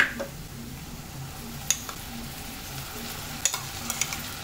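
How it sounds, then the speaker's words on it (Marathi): Chili, red chili and ginger-garlic paste hit browned onions in a pan, giving a low steady sizzle with a few sharp scraping clicks of a spoon stirring, quiet and without talk. "आपण जे आता वाटण केलेलं होतं, मिरची, लाल मिरची आणि आलं लसूण, त्यात आपण घालूया यामध्ये"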